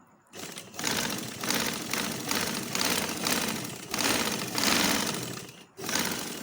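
A sewing machine stitches a strip of a kurta in close, loud bursts of rapid mechanical whirring, separated by short pauses.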